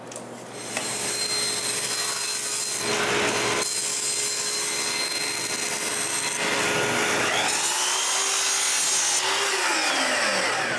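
Wooden frames for a bandsaw base are sanded on their inside faces with a power sander, giving a steady abrasive hum broken by short pauses and changes in pitch.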